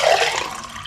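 Water poured into a glass jar to refill it, a brief rushing splash that starts strong and gradually softens as the stream continues, close and without any talk.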